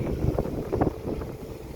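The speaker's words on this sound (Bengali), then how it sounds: "সুন্দর ট্রলার যাচ্ছে" A trawler boat passes on the Ichamati river bank, its low engine drone and water wash steady and close with wind buffeting the microphone.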